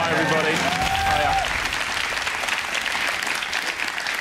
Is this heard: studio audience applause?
yes